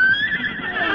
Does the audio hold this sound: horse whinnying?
yes